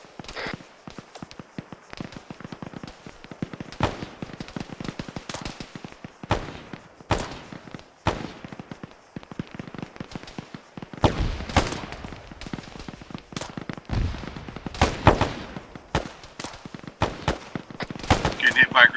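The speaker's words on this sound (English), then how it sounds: "Getting hit by grenades" Grenade blasts and rapid gunfire during a training game, dense irregular bursts of sharp cracks and heavier thuds, some close and loud, with brief footsteps and a few shouted voices mixed in.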